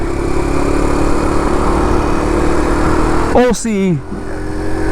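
Steady engine drone from a SYM Symba motorcycle, a Honda Cub C90 replica, running throughout at close range, with a voice cutting in briefly near the end.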